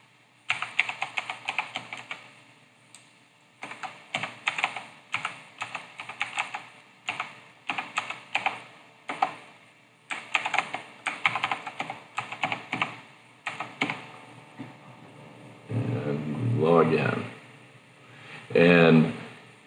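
Typing on a computer keyboard, rapid bursts of close, crisp key clicks in irregular runs separated by short pauses, followed at the end by a couple of louder, longer thumps.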